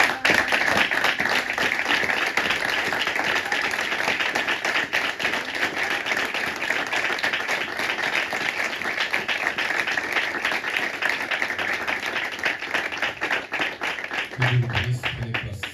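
A church congregation during a service applauds steadily and loudly for about fifteen seconds, a dense sustained clapping that thins out at the end, with voices faintly mixed in.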